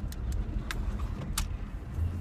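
A car drives home from Walmart with a steady low road and engine rumble inside the cabin, plus a few faint clicks and rattles, and no talking.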